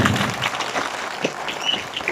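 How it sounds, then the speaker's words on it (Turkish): Applause at an İYİ Parti Edirne central district party election meeting: a short burst of moderate, steady clapping from a seated audience. "Ben bir alkışla Bahar Hanım için istiyorum lütfen"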